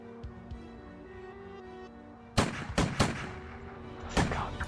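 Gunshots fired in the adventure video game Runaway 2: The Dream of the Turtle, a cluster of sharp loud cracks after a quiet stretch of background tones, followed by a few more blasts.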